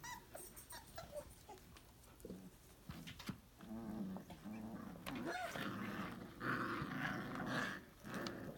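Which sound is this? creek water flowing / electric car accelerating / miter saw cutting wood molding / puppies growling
puppies growling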